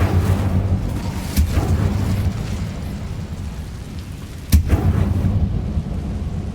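An Incendio fire spell cast in Hogwarts Legacy, a loud continuous roaring rush with two sharp bursts, dense and close, with no talking.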